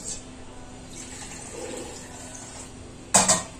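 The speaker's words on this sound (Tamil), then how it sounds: "நம்ம கொஞ்சம் தண்ணி விட்டு" Water is poured into a flour batter for kali with spicy kara kuzhambu, giving a soft, steady trickle and splash, followed by a short, louder burst of splashing near the end.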